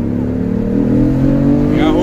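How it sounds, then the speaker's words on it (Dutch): A BMW i8 sports car engine revving hard on demand, a loud close rising and falling roar with clear engine tones that climb near the end, while people talk over it. "Kun je even dat ding flink opstarten? Volgens mij hoor ik die motor wel."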